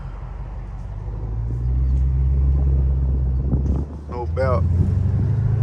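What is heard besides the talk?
Dodge Hellcat car engine running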